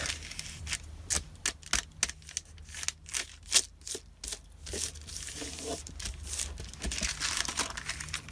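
Sheets of paper being handled and folded in half for a handmade journal, with crisp crinkles and sharp creasing swipes in short irregular bursts, close and moderately loud, with no talking.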